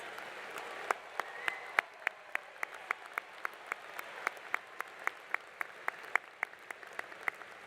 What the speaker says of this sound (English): Everyone, a round of applause for all of these graduates.